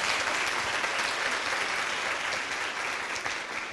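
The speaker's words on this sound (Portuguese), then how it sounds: "aplausos para os professores e professoras da Unicamp" An audience at a university forum on violence against women applauds university teachers with steady, dense clapping that fills the room, loud and sustained throughout with no talk over it.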